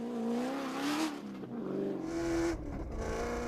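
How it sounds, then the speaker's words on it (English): Ford Ranger rally truck in the production vehicle category at the Sugarbelt 400 rally, its engine revving loudly and steadily with rising and falling pitch as it races over rough terrain, close and continuous with no talk. "opened the door for Visser and Badenhorst, the Ford Ranger wasting no time in overtaking them"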